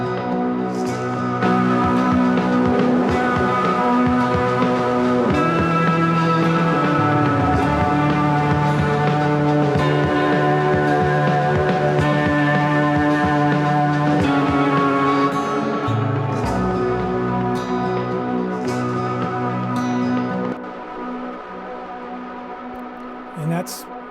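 Psych rock band playing dense, sustained layered guitars and keys that shift back and forth between B Dorian and D Lydian, loud and continuous, thinning toward the end.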